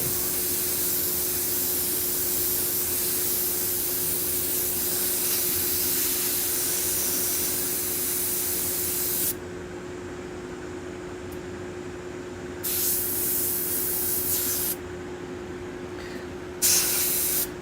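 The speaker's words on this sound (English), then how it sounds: "I'm having some major fits with my airbrush." Airbrush spraying paint while airbrushing skulls, a steady close hiss of air and spray that runs continuously, then breaks into short bursts with pauses near the end over a constant low hum.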